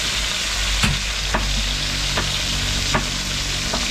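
Steady, loud sizzling of food frying in a pan, with a few sharp scrapes and taps of a utensil stirring at irregular intervals.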